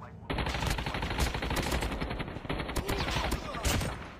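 Sustained automatic gunfire from a battle royale match of Call of Duty Mobile, dense rapid bursts running nearly continuously for about four seconds, loud and close with little pause.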